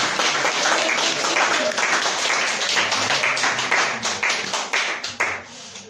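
A congregation at a French Creole church service applauds loudly and steadily, many hands clapping together in a thick, sustained wave that turns into sharper individual claps toward the end.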